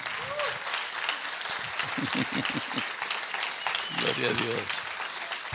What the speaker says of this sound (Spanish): Den un aplauso a mis hermanos.